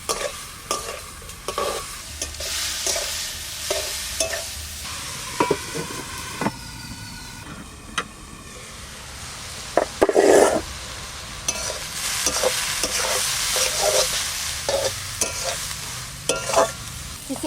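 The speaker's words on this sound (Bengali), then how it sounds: "চিচিঙ্গাটা ভাজা ভাজা হয়ে গেছে, এবারে ডিম ভাজাটা দিয়ে দেবো।" Snake gourd fries in a pan, with a steady soft sizzle broken by frequent sharp scraping clicks of a spatula stirring, close and fairly quiet with no talk.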